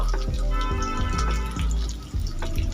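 Water runs and splashes while a spice bowl is rinsed, a close, continuous trickle broken by several short spills and clunks.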